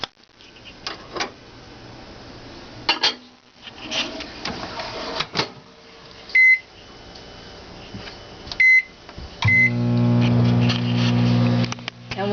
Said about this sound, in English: Alright, so into the microwave.